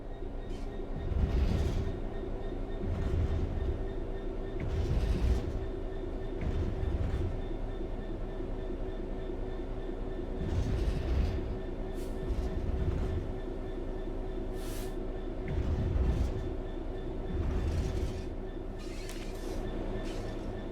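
A simulated train in Train Sim World 3 coasts along the rails with its throttle closed, a deep continuous rumble under periodic clicking wheel beats and faint squeals, holding an even, moderately loud level throughout.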